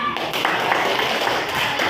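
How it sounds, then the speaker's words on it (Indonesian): A small group in a classroom gives a brief, light round of applause, a soft steady patter of hands mixed with tapping and low background murmur. "Oke, tepuk tangan."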